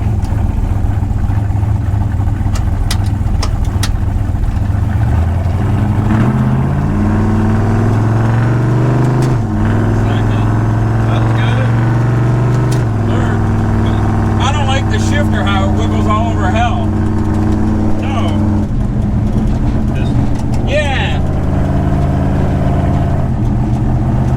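A Falcon with a manual gearbox on its first road test drive: the engine runs steadily, climbing in pitch and dropping back through several gear changes, while voices talk over it.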